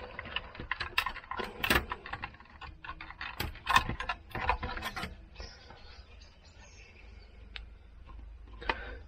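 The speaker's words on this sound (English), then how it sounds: "We should now be able to lift the motherboard out." Motherboard being lifted out of an original Xbox V1.6 console after its screws are removed, heard as close, scattered clicks, scrapes and light plastic-and-metal rattles with no talking.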